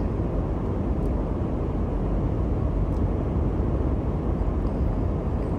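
Airbus A220 on landing approach in Microsoft Flight Simulator 2024, a steady low engine and airflow rumble that fills the whole stretch evenly and continuously, with no voices.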